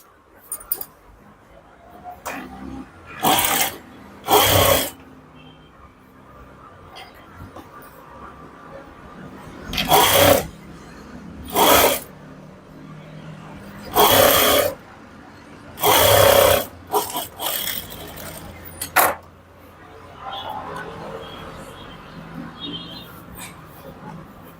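A sewing machine stitches a boutique-style blouse in several short bursts, its run loud and close, with a longer pause in the middle and quieter handling between runs.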